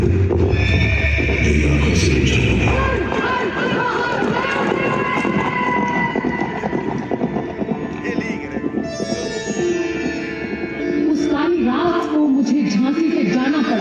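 Loud horse neighs and whinnies ring out over galloping hoofbeats at a fort's light and sound show in Jhansi, layered with dramatic music, a rising siren-like tone and narration.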